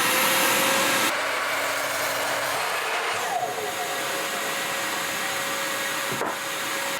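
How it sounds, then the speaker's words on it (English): A hoover vacuum running as dust extraction for a miter saw, powered from a camper's supply at a service station, a loud steady whine and airflow roar that shifts pitch slightly partway through and cuts off at the end. "hoover on."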